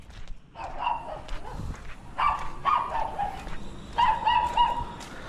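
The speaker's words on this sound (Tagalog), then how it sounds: "May aso." A dog barks repeatedly in short clusters at a moderate distance, over a noisy outdoor background.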